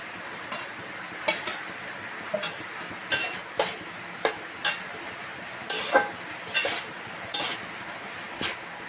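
Leftover roti is stirred into a boiling mixture in a pan with repeated sharp spoon scrapes and clinks against the metal, about a dozen strokes over a soft simmering hiss.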